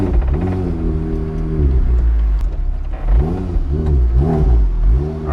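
A Porsche Boxster fitted with GT3 RS suspension is driven, its engine rising and falling through repeated revs and shifts heard from inside the car, loud and close with a throaty rumble.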